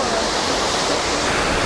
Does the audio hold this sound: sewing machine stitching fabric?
no